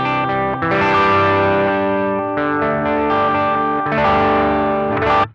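Electric guitar played through a BOSS FBM-1 59 Bassman pedal with the treble knob turned up: bright, crunchy, slightly distorted chords and notes that ring loud and continuous, with a brief dip near the start.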